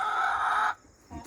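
A chicken gives a short, loud, close squawking cluck that stops abruptly, followed by a brief softer sound, with chickens gathered around someone's feet.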